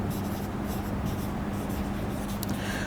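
Steady scratching of writing on a board during a physics lecture, continuous and close with no talk over it.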